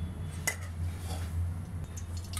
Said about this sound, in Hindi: उसमें करीब हम 1 चम्मच से थोड़ा सा कम या 1 चम्मच हम इसमें घी डाल देंगे